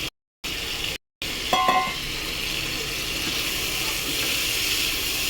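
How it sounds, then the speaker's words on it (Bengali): Eggplant frying in oil in a pan and being stirred, a steady broad sizzle with a brief louder scrape of stirring near the start, after two short silent gaps. "বেগুনটা নাড়াচাড়া করে ভালো করে কষে ফিরছি বন্ধুরা"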